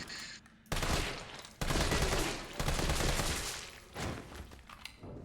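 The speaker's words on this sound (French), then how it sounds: "Avec ton arme automatique, quand tu shootes des zombies, ils font la salsa." Automatic weapon fire at zombies in the video game Resident Evil 3, heard as loud sustained bursts of shooting in several stretches, close and dense, with little else around it.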